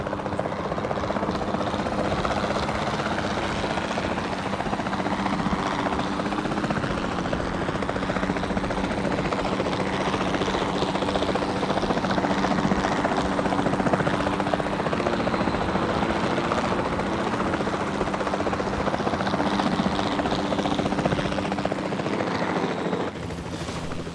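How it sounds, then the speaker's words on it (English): A capture team helicopter in Jurassic World Evolution 2 drones steadily with a loud whirring rotor chop that holds at near-constant level throughout, with no talking over it. "Then, the sensible thing is to take a capture team helicopter."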